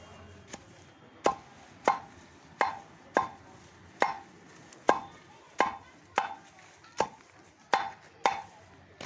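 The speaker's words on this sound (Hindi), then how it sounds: "इस तरह से आपको इसको बारीक बारीक टुकड़ों में काट लेना है" Cocculus hirsutus (vasanvel) plant stems being chopped into fine pieces as cattle fodder, a steady series of about a dozen crisp, close knife strikes at a regular rhythm, with no talk.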